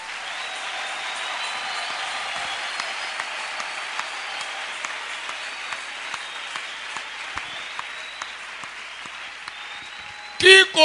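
A church congregation applauding to praise the Lord, a dense sustained roar of clapping and crowd noise that holds steady throughout and swells into a louder burst at the very end.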